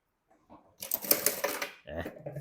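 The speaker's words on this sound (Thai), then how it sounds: "เขาจะเย็บย้ำล็อกนะครับ ตามจำนวนฝีเข็มที่เราตั้งไว้นะครับ" A SHUNFA SF202-D3 computerized large-hook lockstitch sewing machine runs an automatic backtack, giving a short burst of rapid stitching that pauses and then resumes, close and moderately loud with talk around it.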